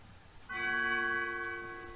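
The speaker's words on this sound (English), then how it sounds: "Cue bells!" Bells chime in the Undertale video game, a single struck tone with long sustained harmonic overtones ringing steadily for over a second before cutting off, with no talk over it.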